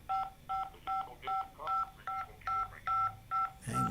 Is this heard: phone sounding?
yes